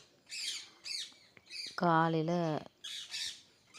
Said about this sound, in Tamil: கிளி சத்தம் பயங்கரமாக இருந்தது.